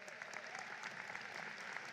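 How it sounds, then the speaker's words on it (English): A commencement audience at Northern Kentucky University claps in a steady, faint wash of applause, distant and even for a couple of seconds. "let's have another round of our applause for our outstanding students and faculty directors"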